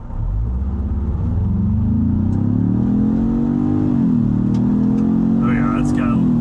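A 2021-or-later Ford Bronco with the 2.3L engine and an aFe Scorcher GT, pulling hard in race mode, its engine note a loud steady rumble that climbs in pitch as it accelerates, with someone talking over it.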